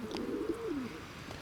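A pigeon in a loft gives a single soft, low coo that falls away, heard faint and near against a quiet background.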